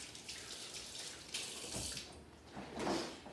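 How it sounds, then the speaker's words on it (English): Tap water running into a kitchen sink while hands are washed, a soft close splashing stream that rises and falls in faint bursts. "Wash my hands."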